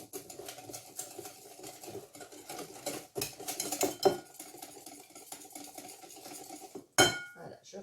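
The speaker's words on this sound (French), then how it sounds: "Je mélange, je mélange, je mélange" A utensil stirs zucchini waffle batter in a bowl, making a steady run of light scraping and clinking against the bowl. A sharp knock near the end stands out from the rest, and there is no talk.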